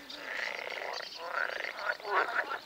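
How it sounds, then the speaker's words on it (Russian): Frogs croak in a chorus beside a pond during a crucian carp fishing competition, the calls overlapping in a steady, fairly loud stream with rising bursts near the end. "Лягушки поют так."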